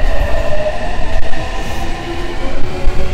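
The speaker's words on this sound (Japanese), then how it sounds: "こんな感じで容赦なく急行電車が通過をしていきます。" An express train roars through Karakida Station at speed without stopping, a loud, steady rumble with rail clatter and no pause, close by.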